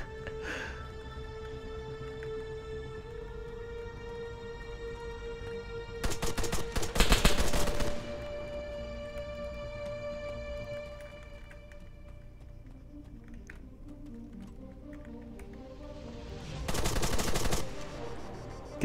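ArmA 3 gunfire during a castle assault: two distinct bursts of rapid automatic shots, each lasting a second or two, separated by quieter stretches of steady ambient game tones.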